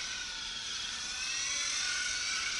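A Carson 1/5 scale Audi RS5 brushless RC car accelerates on a 4x4 track, a steady high-pitched electric whine with a slight rise in loudness, fairly faint and heard alone.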